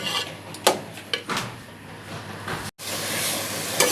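Pumpkin halwa roasting in ghee in a pan, stirred with a spoon: a soft, steady hiss of frying with a few sharper scrapes and knocks of the spoon against the pan, close and fairly quiet, no voices.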